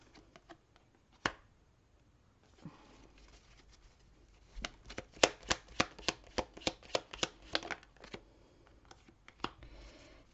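Tarot cards being shuffled by hand for a reading, with soft riffling and a run of sharp, close card slaps and taps in an irregular rhythm, fairly quiet overall.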